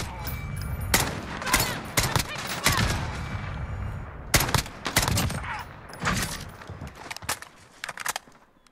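Rapid SKS marksman rifle shots in Call of Duty Modern Warfare, fitted with a FAB Defense conversion, fire in quick loud bursts of several cracks separated by short pauses, with faint movement noises in between.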